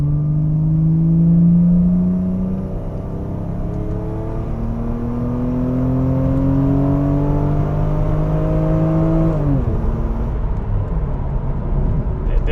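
Toyota MKIV Supra with a naturally aspirated engine accelerating hard, engine note rising steadily, then a gear change with a brief dip in pitch before it pulls again, loud and close.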